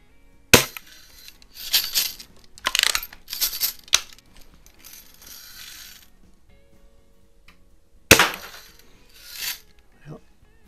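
Red Ryder BB carbine air rifle firing BBs outdoors, several sharp snapping shots with metallic clinks spaced irregularly, then a pause and two more shots near the end.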